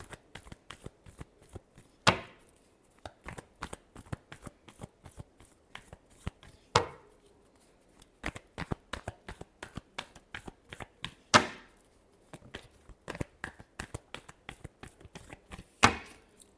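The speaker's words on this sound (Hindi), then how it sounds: "Last shuffle." A tarot deck is shuffled by hand in repeated close, crisp bursts of riffling card clicks, with a louder snap every few seconds and no talking.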